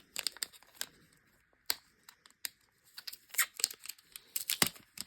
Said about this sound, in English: Again, not the easiest way to rip this open.